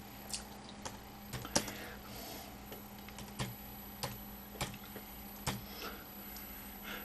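Keys tapped on a computer keyboard in slow, uneven bursts, a few crisp clicks every second or so, close and fairly quiet over a steady low hum.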